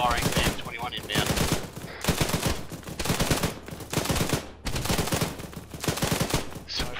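Heavy machine-gun fire pours onto a convoy in a Finnish-front combat game set in Virolahti, loud rapid bursts repeating in waves with brief pauses between them, close and continuous for the whole stretch.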